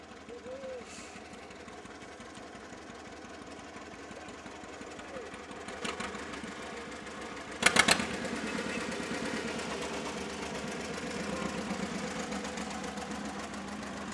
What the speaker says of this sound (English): next up we got Kevin Medeiros in this wicked awesome 1948 John Deere Model A tractor